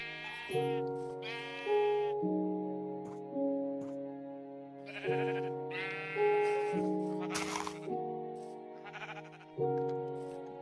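Minecraft sheep bleat repeatedly, roughly seven loud nasal calls at irregular intervals over sustained synthetic background music.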